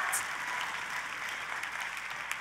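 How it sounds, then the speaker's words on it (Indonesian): Church congregation applauding, a dense, steady clatter of many hands that holds at an even level from start to finish with no break. "hari ini saya mau mendengar tepuk tangan yang paling meriah."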